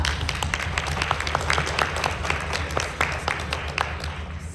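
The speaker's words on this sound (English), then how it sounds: "Let's give them applause." Applause from an audience at a public health education conference, steady scattered clapping throughout, close and moderately loud over a low room hum.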